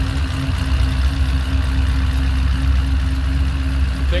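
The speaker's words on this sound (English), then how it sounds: "this is a 427 Chevy Crate racing engine that was installed in the car" A twin-turbo 427 Chevy crate racing engine in a 2010 Camaro SS idles with a steady, deep, slightly lumpy rumble, close and continuous with no talking.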